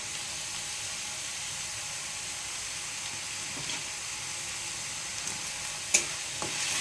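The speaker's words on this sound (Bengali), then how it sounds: "মশলাটা এবার কষে নিয়ে আসছে ভালো করে" Spice masala with turmeric, chili powder and salt fries in oil for a chicken curry, giving a steady broad sizzle with a few faint scrapes and one sharp clink near the end.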